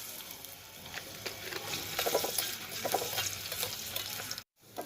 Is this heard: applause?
no